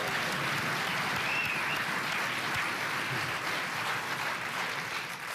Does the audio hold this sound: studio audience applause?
yes